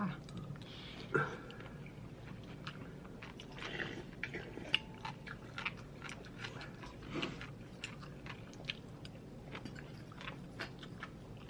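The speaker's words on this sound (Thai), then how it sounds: "กัดกินแตงกวา" A child nearly one year old bites and chews a cucumber at a meal with spicy papaya salad, giving repeated close, soft crunching bites under steady background talk.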